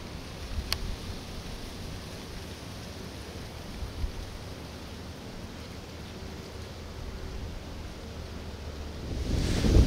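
Wind blowing outdoors in Pennsylvania woods during a hunt, a faint, steady broadband rush with a few soft gusts and a swell at the very end, no talking.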